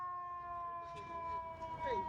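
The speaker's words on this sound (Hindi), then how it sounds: "एक तो जगह जगह इनके सायरन बजने बंद नहीं होते भाई, बजते रहते हैं" An emergency vehicle siren in New York wails steadily with rising and falling pitch, fairly prominent, while traffic hum and faint background voices mix underneath.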